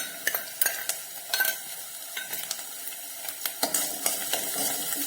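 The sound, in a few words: sautéing ginger-garlic paste with spices in a pan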